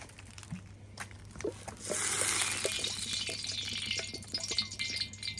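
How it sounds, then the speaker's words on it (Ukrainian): Cooking oil poured into a heated kazan for plov, a soft liquid patter and sizzle that swells partway through and holds steadily, close and fairly quiet, with no voices. "Наливаємо олію."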